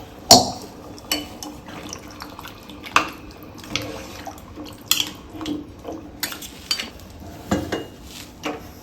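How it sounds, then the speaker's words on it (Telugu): Water poured into a pot of mutton curry, with clinks and knocks of utensils and a few sharp metallic taps spread across the stretch, close by with no talk. "ఒక పెద్ద గ్లాసులు వాటర్ పోసుకోండి"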